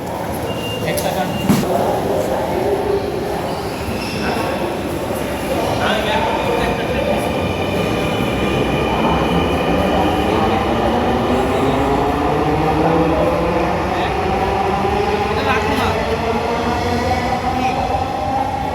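A metro rail train runs steadily throughout, with a continuous loud rumble and sweeping rising wheel and motor tones, as in a station or on board a moving carriage.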